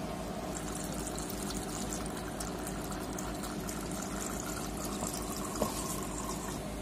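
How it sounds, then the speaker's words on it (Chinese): Waste liquid drains from an ink printer during maintenance cleaning, a faint continuous trickling wash with a steady pump-like hum underneath and one small clink, and no talking. "再把废液给排出来。"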